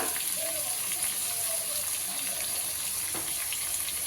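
Asafoetida fries in hot oil in a home kitchen, giving a steady, hissing sizzle that holds at an even level the whole time, with no talking over it.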